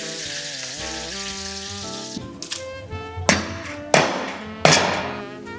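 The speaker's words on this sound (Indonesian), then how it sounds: "sekarang kita mau tambahin tumisan bawang putih, bawang merah sama serai biar semakin wangi nasi liwetnya" Sautéed garlic, shallot and lemongrass sizzle as they are added to a large batch of coconut rice, a steady frying hiss broken by several sharp clanks of utensils against the pot.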